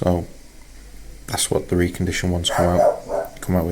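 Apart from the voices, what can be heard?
dog barking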